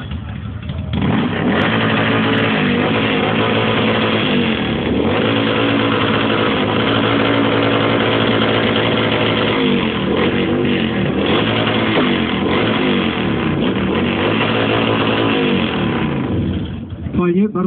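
A loud motorcycle engine revs hard at a loudest-motorcycle contest, sustained roaring with repeated throttle blips and pitch swings for most of the stretch, close and dominant, with a crowd and an announcer faintly audible beneath.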